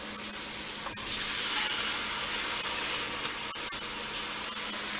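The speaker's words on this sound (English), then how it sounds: "I'm just going to sear these off on both sides" Pork chops searing in a hot pan give off a steady, fairly loud sizzling hiss throughout, with a couple of faint ticks.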